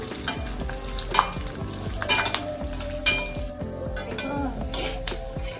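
Cashews and raisins frying in ghee on a low flame, a close bubbling sizzle broken by rhythmic stirring scrapes and light metallic clinks of a spoon on the pan.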